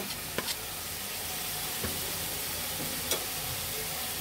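Coriander powder and green chillies stir-fried in a pan, a steady close sizzle with a few sharp spatula knocks against the metal spaced across it.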